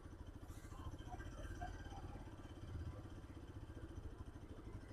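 A Bajaj Pulsar RS 200 motorcycle idles, its exhaust giving a faint, steady, rapid low thumping pulse with no speech.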